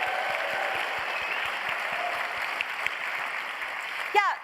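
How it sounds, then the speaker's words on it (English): Fairly faint, even applause from an awards-show audience at the 2024 DICE Awards, a continuous wash of clapping that holds steady throughout, with a brief sharp sound near the end. "give them a round of applause as well"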